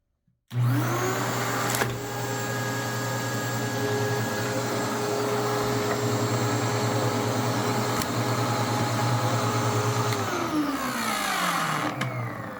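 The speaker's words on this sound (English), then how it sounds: "That grinding sound is the clutch is re-engaging." A CleanMax Champ CMP-5T commercial upright bagged vacuum hums loudly and steadily up close with a strong low drone, while its slipper clutch re-engages with a grinding rise in pitch, then winds down near the end.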